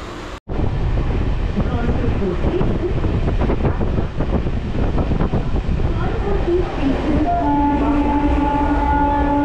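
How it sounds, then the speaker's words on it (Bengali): A Santragachi–Jhargram MEMU train runs at speed after leaving Uluberia, with a loud, steady rumble of wheels and carriage rattle throughout, wind buffeting, and a sustained horn-like tone near the end. "ট্রেন কিন্তু দুরন্ত গতিতে চলছে"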